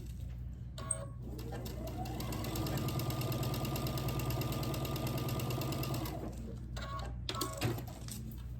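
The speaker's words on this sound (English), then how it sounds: "and I'm gonna sew down this seam." A sewing machine stitches a seam across a quilt block in one steady run of several seconds, mechanical whirring and rapid needle rhythm close by, with short quiet gaps and small clicks at the start and end.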